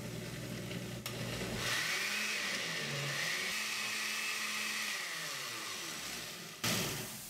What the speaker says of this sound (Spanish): Vamos a agregarle el cilantro ya lavado y desinfectado. Y vamos a licuar.